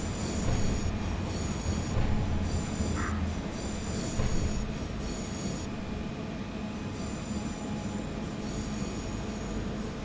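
A passenger train rolls past in the SimRail railway simulator, a steady loud rumble of wagons with faint wheel squeal and clatter running through the whole stretch, no voices.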